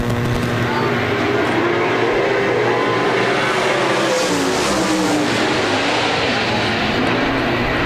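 Several 360 sprint cars roar together as a heat race starts at Park Jefferson Speedway, a loud continuous engine drone that swells as the pack accelerates, with an announcer talking over it.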